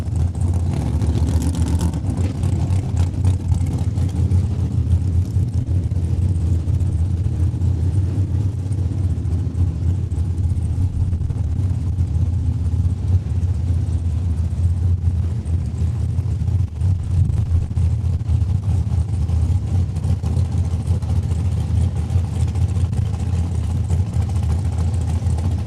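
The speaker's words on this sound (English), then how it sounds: "Taylor Fiesel warming up the rear tires" A drag race car at Saskatchewan International Raceway revs steadily while warming up its rear tires, a loud continuous engine roar with a low rumble that holds for the whole stretch, no speech over it.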